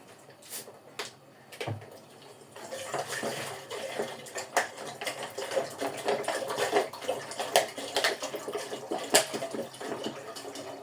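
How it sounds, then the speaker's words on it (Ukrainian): Water pours into a 3-litre cooking pot, starting with a few splashes and then settling into a steady gurgling fill with occasional clinks of the pot, fairly quiet and close. "Зараз заливаю воду."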